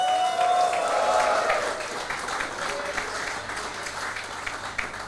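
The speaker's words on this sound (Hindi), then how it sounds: "बहुत सारी तालियों में इफी एंड वासे." Studio audience applause welcoming guests on a comedy podcast's 200th special episode, steady moderate clapping throughout, with a brief whistle-like tone early on and a few scattered cheers mixed in.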